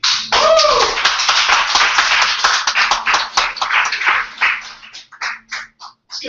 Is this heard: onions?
no